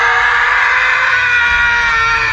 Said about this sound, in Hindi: सुधांशु चिल्लाता हुआ पलटा